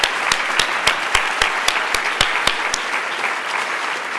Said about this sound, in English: So a huge round of applause for our Diversity Scholarship Fund.